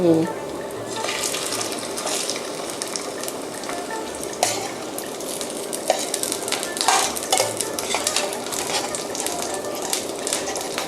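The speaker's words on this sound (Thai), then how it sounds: "แพทจะทอดไปเรื่อยๆนะคะ จนกว่าปลาจะสุกดี" Fish frying in oil for a Thai noodle dish with fish in fermented soybean sauce, a steady close sizzle with occasional stirring clinks and scrapes running throughout.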